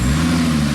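A supercharged engine in a rebuilt, previously wrecked 2019 Ford Raptor runs with a loud, close, steady low rumble and a faint whine on top, with no voices.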